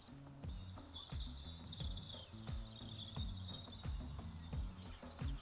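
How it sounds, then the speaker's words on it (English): Dawn chorus played back from a phone recording, with birds such as great tit, robin, blue tit, wren, jackdaw, wood pigeon, crow and dunnock: faint, dense high chirping and trilling layered over a repeating low rhythmic pulse. "So it was a great tit, a robin, a blue tit, a wren, a jackdaw, a wood pigeon, a crow, and a dunnock so far."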